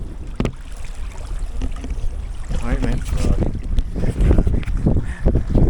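Canoe or kayak paddling on open lake water off Manitoulin Island, Ontario, with steady splashing strokes mixed with wind buffeting the microphone and a voice speaking briefly over it.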